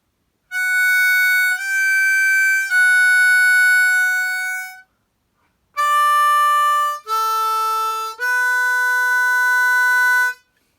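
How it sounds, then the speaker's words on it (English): Harmonica playing a short melodic lick of sustained reedy notes, draw and blow notes on holes 4 and 5, in two phrases of several held tones separated by a brief pause, loud and clear with no voices. "And it sounds like this, the whole lick together."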